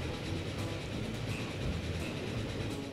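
A steam train runs in the video game Transport Fever with a continuous rolling rumble and faint clickety-clack of wheels at a steady, dense level throughout, with no voices.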